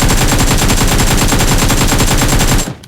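Automatic gunfire in a battle royale video game, a loud, rapid, evenly spaced burst of shots that runs continuously for nearly three seconds before stopping abruptly.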